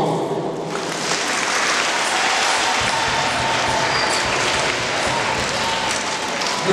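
Applause from a gathered crowd at a first communion celebration, dense and loud clapping that starts quickly and holds steady throughout with no talking.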